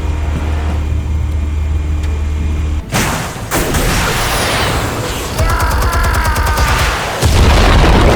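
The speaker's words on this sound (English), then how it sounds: "Explosives armed. Fire when ready." Explosives detonate in the Batman Telltale video game, a loud close boom followed by rumbling blasts and debris that roll on for several seconds alongside a game soundtrack.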